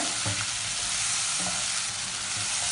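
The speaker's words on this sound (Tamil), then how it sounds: "நல்லா பச்சை வாசனை போகிற வரைக்கும் நீங்கள் நல்லா வதக்குங்க" Green chilli paste for a plain veg biryani sautéing in a pan gives a constant loud sizzle, with a few soft stirring scrapes underneath.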